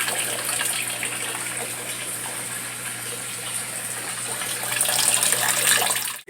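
Aquarium being refilled after a 75% water change, water from an RO filter pouring in: a steady, loud, close rushing gush of running water that swells slightly near the end before cutting off.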